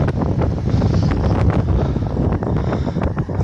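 Strong wind buffets the microphone during a bicycle ride between Tuzla and Kalesija, a loud continuous roaring rumble with gusty surges and no talk.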